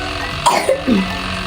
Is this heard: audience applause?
no